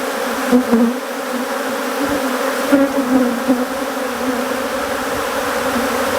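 A steady, loud drone of many Africanized honeybees buzzing close by around a queen cage, unbroken for several seconds.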